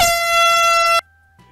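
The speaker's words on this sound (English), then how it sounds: "Air horn prank." One loud, sustained air horn blast lasting about a second, cut off abruptly and followed by near silence.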